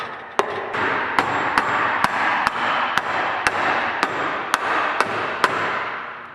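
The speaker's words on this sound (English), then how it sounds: "Use a dead blow hammer to encourage this in." Sharp dead blow hammer taps seat a part in a golf cart transaxle at a slow, steady rhythm, about a dozen blows over a continuous background hiss, close and fairly loud.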